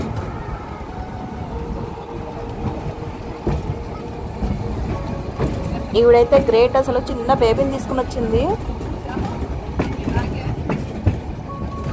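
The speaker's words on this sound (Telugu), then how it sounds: "చెక్క ట్రైన్ కదా, సౌండ్ ఎలా వస్తుందో చూడండి." Wooden open-top field railway train running at a Feldbahn in Leipzig, rattling and rumbling steadily with squealing wheel tones midway, while someone talks over the noise.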